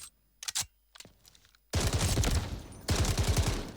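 MK47 rifle in the shooter game Delta Force: a few isolated loud shots, then two sustained bursts of rapid automatic fire, close and punchy.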